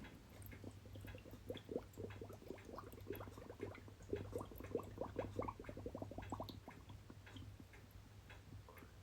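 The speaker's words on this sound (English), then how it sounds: "so I can pump the water around and get all the bubbles out." Electric water pump circulating coolant through a Norton Nemesis V8 motorcycle engine, giving a faint steady low hum beneath soft irregular ticking, gurgling and bubbling of liquid moving through the system.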